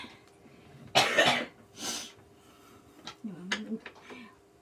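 A child coughs indoors, a couple of harsh bursts close to the microphone, followed by quieter talk and vocal sounds.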